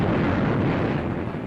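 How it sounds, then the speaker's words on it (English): Heavy aerial bombs bursting along Tarawa's waterfront and beachheads in 1943 wartime footage, a dense continuous roar of explosions at full loudness with no pauses and no voices. "thousands of tons of aerial bombs are rained upon Tarawa's waterfront and beachheads as the shore lights up like the crack of doom"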